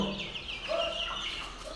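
Several Frizzle chickens cluck and chatter at close range, a busy mix of short calls and warbling notes over a faint steady background hum.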